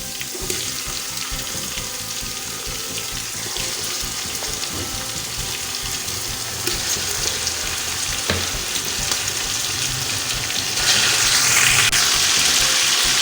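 Garlic, ginger and cumin sizzle and fry in a pot for beef nihari, a steady dense crackle that swells louder near the end as more goes in, close up with no talking.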